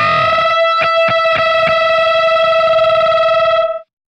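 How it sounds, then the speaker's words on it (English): An electric guitar plays a unison underbend with repeated picking, its two close pitches beating against each other in a wavering, distorted sustained tone. A few clear pick attacks sound before the note rings out and cuts off abruptly. "if you just underbend a little bit and just keep picking, you get this really crazy fight between frequencies"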